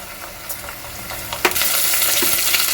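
Ginger, garlic and onion pastes sizzling in a hot pan for a spicy Bengali egg curry, a continuous frying hiss with occasional stirring clatters, loud and close.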